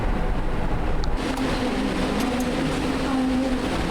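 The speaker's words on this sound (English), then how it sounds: "There's the tram coming." A tram rumbles into the Bellagio–Monte Carlo line station in Las Vegas and hums steadily nearby, a low drone rising as it pulls closer, with faint clanks and a brief high squeal.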